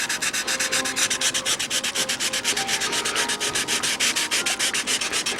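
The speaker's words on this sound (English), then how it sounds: "this is working out to be a good sanding tool here" Rapid rhythmic sanding of a model airplane cowl, a dry scratchy rub repeating about five times a second, close and steady with no talking.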